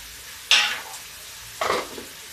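Curry leaves dropped into sizzling masala in a pan while cooking masoor dal, two sharp bursts of loud frying hiss and crackle that flare and fade, close by, with no talking.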